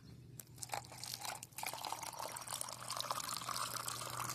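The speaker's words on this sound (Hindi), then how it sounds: "इस ढक्कन को खोल लेता हूँ और पानी थोड़ा इसमें डाल लेता हूँ" Water poured from an opened plastic bottle for a homemade drip irrigation setup, a close, continuous gurgling stream with crinkly plastic handling noises, running steadily for several seconds without talk.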